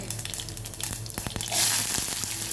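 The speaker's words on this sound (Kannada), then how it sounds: "ಇವಾಗ ಎರಡು ಟೇಬಲ್ ಸ್ಪೂನ್ ಎಣ್ಣೆ ಹಾಕಿ ಸಾಸಿವೆ ಸ್ವಲ್ಪ ಜೀರಿಗೆ" Mustard seeds and cumin crackle and sizzle in about two tablespoons of hot oil while cooking chitt moolangi pallya, a close steady hiss with sharp pops that swells louder midway.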